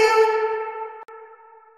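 A bright, shimmering reverb tail from the Baby Audio Crystalline plugin rings out as sustained tonal layers, decaying slowly over almost two seconds with a brief dropout midway, heard alone without any voices.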